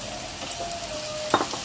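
Water poured over frying spice paste in a pan, a close, steady sizzle with a faint thin tone running through it and a brief burst of sputtering near the end.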